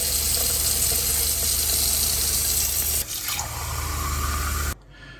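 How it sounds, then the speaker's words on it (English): A cold water tap runs steadily into an RV kitchen sink, a constant rushing stream of water that changes tone partway through and then shuts off near the end. "turn on the cold water in the kitchen sink, and let's let it run through for a little bit."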